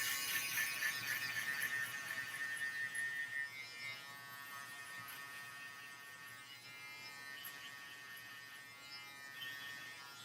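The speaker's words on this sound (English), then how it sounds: "Shaver." Electric shaver buzzing steadily and faintly during a high taper haircut on kinky hair, a thin continuous hum that shifts slightly as the blades move, with no talk.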